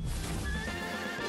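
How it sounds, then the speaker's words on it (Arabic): A horse in a digital circus video game gives a loud, clear whinny with clip-clop hoofbeats, a short burst heard alone. "ايه هو ده؟ حصان."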